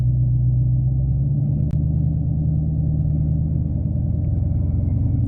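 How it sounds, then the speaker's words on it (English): A 2018 Chevy Camaro SS 1LE pulls away as the clutch is let out slowly, its V8 giving a loud, steady low rumble that holds throughout, close by, with no talk over it. "And just let the clutch out slowly and it'll take off."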